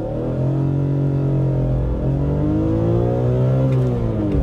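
A naturally aspirated BMW E46 M3 engine revs hard and continuously toward 8,000 RPM, a loud rising harmonic roar as it accelerates through the gears.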